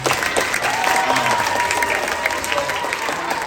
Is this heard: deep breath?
no